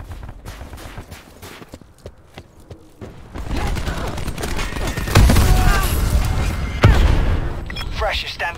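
Artillery barrage pounding down in Call of Duty Black Ops 4, a dense rumbling stream of heavy impacts building from scattered distant booms into a sustained loud roar, with radio chatter running over it.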